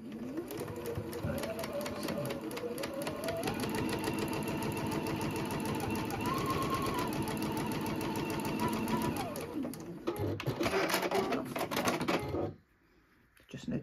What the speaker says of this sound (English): back to your sewing machine